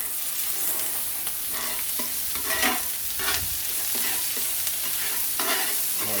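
Mee goreng noodles stir-fried with garlic and ginger in oil over a barbecue, with a steady close sizzle broken by repeated scraping and tossing strokes of the utensil through the pan.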